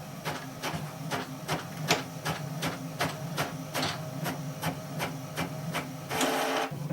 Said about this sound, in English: My first like is my brand new printer. It prints faster than Vanessa Feltz could devour a plate of chicken wings.